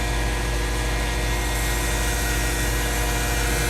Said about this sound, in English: compressor and electrics that is now working on the van